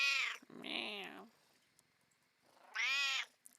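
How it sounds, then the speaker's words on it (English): A cat meows loudly right at the microphone, giving three drawn-out, close calls separated by quiet pauses, with faint soft sounds between them. "She's like in my face, meowing and purring and getting pet."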